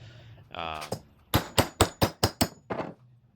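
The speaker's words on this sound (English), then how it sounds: "Now actually using the hammer to drive out the studs." A hammer drives wheel hub studs out of an SKF heavy-duty hub for a C6 Corvette, with about seven sharp metallic blows in a quick, even rhythm after a couple of lighter taps.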